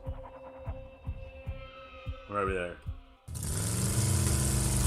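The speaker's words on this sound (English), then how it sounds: "The sound of the engine thrumming away." Thrumming engine sound effect for a desert drive in a Dungeons & Dragons tabletop session, rising suddenly into a loud, steady roar that fills the last part, after quieter rhythmic throbbing pulses.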